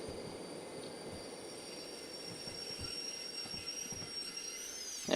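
Rail cars rolling in the video game Derail Valley with a sustained high metallic brake squeal over low rumble and faint clacks, steady throughout.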